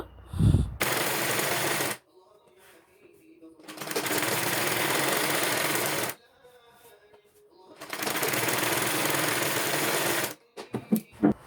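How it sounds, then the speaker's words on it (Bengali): Sewing machine stitching a close hem along the bottom edge of a petticoat, running in three loud sustained bursts separated by pauses, with brief handling knocks at the start and end. "এবার নিচ দিয়ে একটা চাপ সেলাই দিয়ে নিব, একদম নিচ দিয়ে গা ঘেঁষে একটা চাপ সেলাই দিয়ে নিব"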